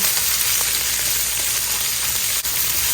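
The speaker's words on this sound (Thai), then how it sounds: "ผัดเลยค่ะ ผัดเขาให้หอมนะคะ" Curry paste being stir-fried in a pan for crispy boneless tilapia, a loud dense close sizzle running steadily throughout with faint stirring scrapes and no talk.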